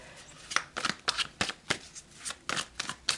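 Tarot cards are shuffled by hand in quick, crisp riffling bursts that repeat about a dozen times at close range, with no voices.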